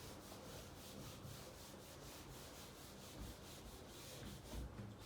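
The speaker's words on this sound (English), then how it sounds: "Okay, I will rub this side." Steady scrubbing as handwriting is wiped off a board in a trigonometry lesson, a faint continuous rubbing with slight rhythmic strokes and no speech.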